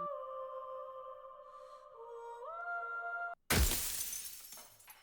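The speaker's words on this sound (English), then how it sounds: "I was getting ready for the glass break noise. The mirror crash sound." Synthetic tones hold and shift before a loud, sudden glass mirror shatter erupts in the video game Slay the Princess, its crash and scattering shards tailing off over the last second and a half.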